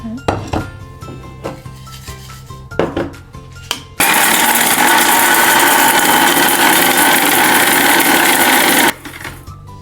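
An electric grinder whirs loudly and steadily for about five seconds as it grinds spices for a Jaffna-style chicken curry, following several light clinks and knocks of kitchen handling and preceded by quiet background sounds.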